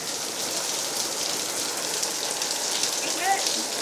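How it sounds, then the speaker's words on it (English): Dense, steady patter of hail striking surfaces, an even hiss of countless small impacts with no clear pauses, moderately loud. "It's hailing."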